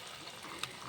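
Flour dough frying slowly in hot oil gives a soft, steady sizzling hiss throughout, with one brief faint tick near the end and no voices.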